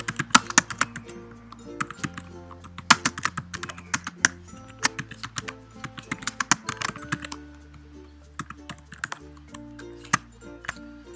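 Fingers type text on a computer keyboard in quick, uneven bursts of crisp clicks, close up, with soft background music playing underneath.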